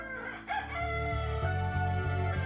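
A cartoon rooster crows in a long, drawn-out call over a steady background tone, loud and close, with no talking.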